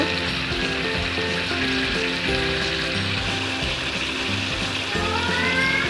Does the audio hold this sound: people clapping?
no